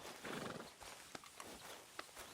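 A horse in Red Dead Redemption 2 snorts and whinnies faintly while its hooves give a few sharp, scattered clip-clops, all at low volume with no voices.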